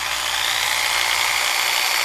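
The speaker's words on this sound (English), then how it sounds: "We'll go ahead and now chuck this in the drill." An electric drill spins a 3D-printed spinner clamped in its chuck, giving a steady, close, high-pitched whine that holds unbroken for about two seconds.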